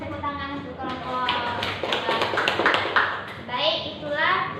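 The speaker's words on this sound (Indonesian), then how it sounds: "tepuk tangan untuk kelompok" Students in a classroom clap for a presenting group during a lesson, with scattered hand claps and taps mixed under lively children's voices talking over them.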